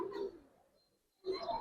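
A silver pigeon coos nearby in two soft, throaty calls separated by a short quiet gap, heard alone without talk.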